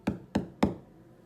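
Knocking on a door at night, three firm, evenly spaced raps close by, each ringing out briefly, with no voices.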